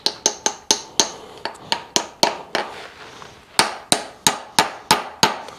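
Sharp, ringing metal strikes of a hammer on a socket driving a part into a small-block engine and four-speed transmission setup, a steady series of about fourteen close, loud blows with a brief pause midway, no talking.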